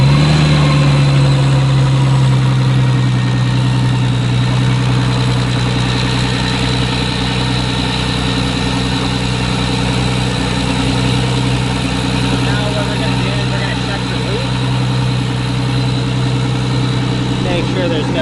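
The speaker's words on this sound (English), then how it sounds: "We're gonna turn on the engine" A car engine idles steadily after an oil cooler kit install, a continuous low rumble holding even and loud for the whole stretch, with a brief higher hum near the start.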